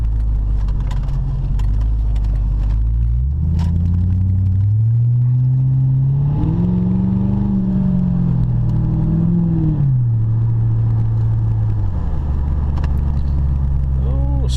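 A car's engine rumbles and whirs as it accelerates with the passing gear engaged, the pitch climbing, holding, then settling back over steady road noise inside the cabin.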